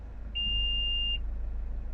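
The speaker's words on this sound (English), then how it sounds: "that beep you heard was the parking sensors" A Mazda6 2.2 SKYACTIV-D Sport Nav Tourer's parking sensor gives one steady high-pitched electronic beep lasting almost a second after the car is put into reverse, clear and alone over a low cabin hum.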